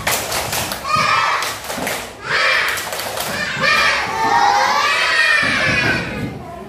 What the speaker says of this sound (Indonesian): kita tepuk semangat dulu ya. 1, 2, 3, tepuk semangat.